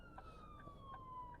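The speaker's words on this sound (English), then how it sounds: "Okay, so we have a siren, so we're looking for the siren." An emergency vehicle siren sounds in traffic on a driving route in Tallaght: a faint, steady, slowly falling wail carries on throughout, heard from a distance over low road rumble.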